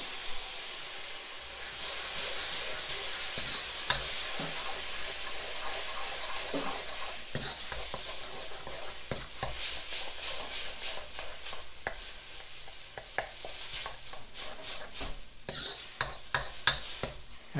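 Tomato and green chili paste sizzling in a hot pan while being stirred, a steady hiss and steam broken by repeated scraping and clattering spoon strokes.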